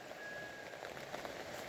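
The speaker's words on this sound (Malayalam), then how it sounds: "ഇപ്പം അധികം മഴയില്ല, ചാറ്റൽ മഴയാണ് ഇപ്പം." Light drizzle falling outdoors makes a soft, steady patter and hiss, faint and even throughout with no voices.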